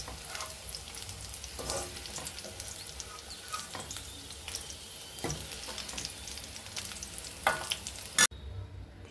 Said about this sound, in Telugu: గోంగూరను కూడా ఇదే కడాయిలో కొంచెం ఆయిల్ వేసుకొని దాన్ని కూడా పచ్చిదనం పోయేంత వరకు వేయించుకోవాలి